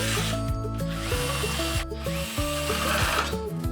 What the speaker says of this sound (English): Using a magnetic screwdriver will make it easier to screw in the screws.